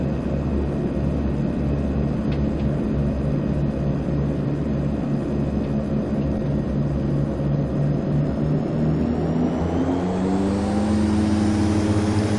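Twin Otter turboprop engines run up to takeoff power in a flight simulator, a continuous loud droning rumble with steady tones that rise in pitch toward the end as the aircraft accelerates.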